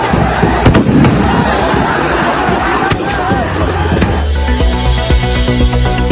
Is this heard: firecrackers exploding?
yes